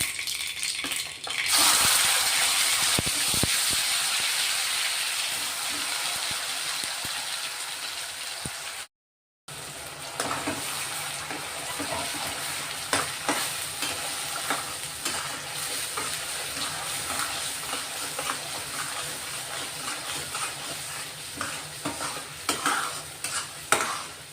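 An onion, tomato, garlic and ginger masala paste fries in a pan, a continuous loud sizzle with occasional stirring scrapes and rattles, broken by a brief silent gap before the sizzling resumes.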